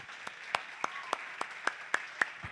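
Clapping in a church congregation, heard as a rhythmic series of about eight distinct, evenly spaced claps at a moderate distance, fairly faint and sharp rather than a dense wash of applause.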